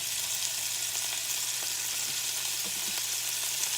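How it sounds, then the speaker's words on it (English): Beef browning in a skillet for a one-pot beef and potato meal, giving a steady, soft frying sizzle with a few faint pops and no talk. "Just frying this ahead of time and getting it a good charcoal brown"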